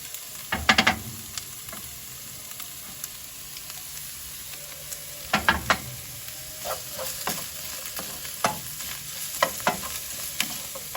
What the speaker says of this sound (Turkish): Biberler de geç kavrulduğu için şöyle Toplayayım biberleri de.